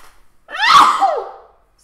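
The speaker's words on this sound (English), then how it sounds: "but I'm going to sneeze." A single loud, close sneeze, a sharp burst that rises and trails off, with silence before and after.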